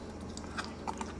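Crunchy roasted asparagus is chewed in a few soft, quick bites, faint and close over a low background hum.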